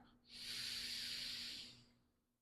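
A single slow, deep inhale through the nose, a soft close airy hiss that swells and then fades away, with no talking.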